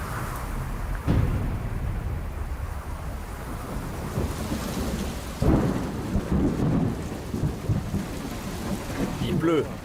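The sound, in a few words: thunderstorm with rain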